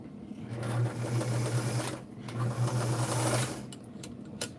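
White zigzag sewing machine, Model 782, stitching in two runs with a steady motor whir and rapid needle chatter, close up, separated by a short pause and ending in a few clicks.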